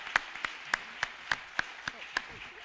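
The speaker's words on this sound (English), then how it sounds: "So let's give them all a round of applause." Audience at a community gathering clapping, a thin, faint run of about eight evenly spaced claps carried over a quiet room background.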